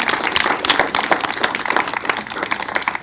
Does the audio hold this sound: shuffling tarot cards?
no